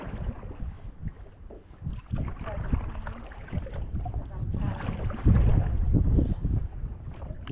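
Paddleboard paddling on the water of Sebastian Inlet on the Indian River in Florida against an incoming tide, with repeated splashing strokes and low wind buffeting on the microphone that grow louder and heavier toward the end.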